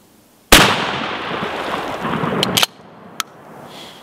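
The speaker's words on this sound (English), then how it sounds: "Let's see what a 1 ounce rifled slug does to it from about 7 or 8 yards." A 1 ounce rifled slug is fired from about 7 or 8 yards into a thick, heavy cement road barrier. One loud, sharp gunshot rings out and its echo decays over about two seconds, followed by a few faint clicks.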